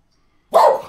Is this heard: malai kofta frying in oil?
no